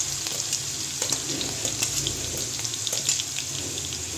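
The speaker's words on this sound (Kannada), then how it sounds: "ಹಸಿಮೆಣ್ಸಿನ್ಕಾಯಿ ಫ್ರೈ ಆಗಿದೆ ಈಗ ಜೀರಿಗೆ ಹಾಕೊಳ್ಳೋಣ" Green chillies and cumin frying in hot oil for a village-style horse gram dish, a dense, bright crackling sizzle with scattered pops running steadily throughout.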